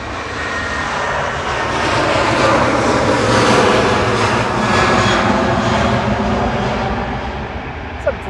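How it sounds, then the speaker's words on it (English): A KLM Boeing 737-800 departs Manchester Airport for Amsterdam, its jet roar swelling loud and near, peaking midway, then easing off, with a voice faintly present under the engines. "KLM departing to Amsterdam, heading off to see Roy, the HBCA."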